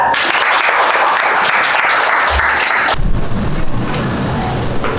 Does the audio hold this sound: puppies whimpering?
no